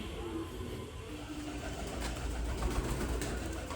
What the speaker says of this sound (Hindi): सारे कबूतर अंदर बैठे हुए हैं